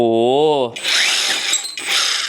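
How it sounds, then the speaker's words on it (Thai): A Texusbull 2.5-joule rotary hammer drill bores into concrete. A brief voice comes first, then a loud, steady grinding whine runs close up to the end. "เจาะเข้าไปแล้วครับสบายสบายเลยนะครับ"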